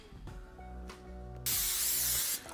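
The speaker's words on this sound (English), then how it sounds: "Let's make sure we coat our pan with some nonstick spray." Nonstick cooking spray hisses onto a baking pan for bread pudding in one steady, close burst of about a second, over quiet background music.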